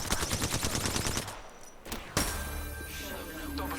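Rapid automatic gunfire in the Apex Legends video game, loud and close, a dense burst of shots that cuts off, then a sharp single blast followed by ringing tail and lighter shots.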